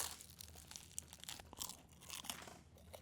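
Close crunching bites into a crisp pizza crust, a quick run of sharp, crackly snaps with no talking over them.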